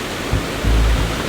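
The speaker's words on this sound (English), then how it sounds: "I really like the waterfall in the foreground here" A waterfall roars close by, a loud, dense, unbroken rush of falling water with deep low thumps surging through it and nothing else heard.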